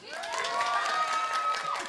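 A studio audience cheers for a nominee on a noontime variety show, with a sustained high whoop riding over a brief burst of crowd shouting and applause.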